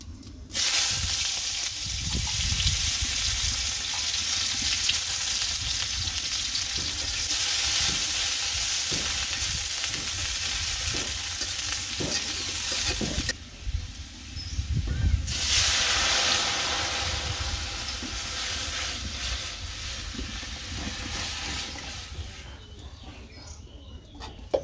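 Chopped onion frying in oil in a pot for lentil dal, a loud continuous sizzle and hiss with scattered stirring clatter, close, dipping briefly midway before returning.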